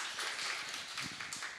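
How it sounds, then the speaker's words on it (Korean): A church congregation applauds during a Sunday sermon, producing a brief, fairly faint wash of steady clapping from many hands. "우리 박수 한번 하시죠"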